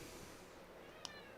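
A house cat gives a faint meow, muffled and quiet under a steady hiss of background noise.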